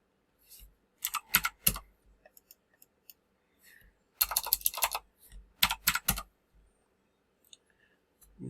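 Bursts of rapid clicking keystrokes on a computer keyboard come in short clustered runs separated by quiet pauses, close and fairly soft, with no talking.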